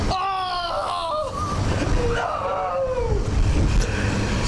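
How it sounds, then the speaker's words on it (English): A person screams in the background at a fuel stop during a Hilux versus Patrol four-wheel-drive challenge, a strained rising cry over wind and engine rumble, with other voices nearby. "as you can hear from that scream in the background"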